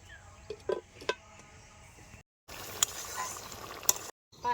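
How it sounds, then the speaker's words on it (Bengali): Bitter gourd curry sizzles and bubbles softly in a covered pan, a low, steady frying hiss with a few faint clinks, broken by short silent gaps. "পাঁচ থেকে ছ মিনিট আমি ডাকনা চাপা দিয়ে রান্না করে নেব"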